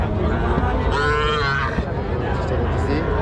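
Bulls, bullocks and calves low repeatedly at a busy weekly livestock market, their long moos rising over a dense background hubbub of crowd chatter.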